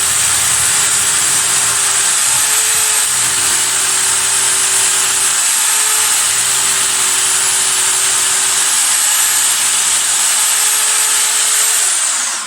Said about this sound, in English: I'm going to be using the SDS drill. So I put a 12mm drill bit in